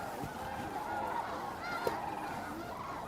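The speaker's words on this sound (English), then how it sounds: "over here we have mostly snow geese, and I see some cranes, and they're still hanging out in the water" Snow geese mixed with some cranes resting on water at Bosque del Apache, a dense, distant chorus of overlapping honks and calls with one sharper nearby cry.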